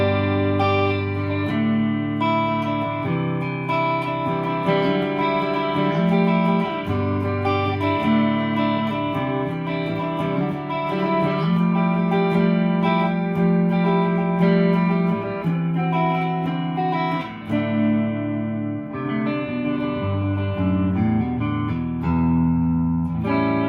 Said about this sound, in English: I'm going to start with the neck humbucker, and this is just clean tone.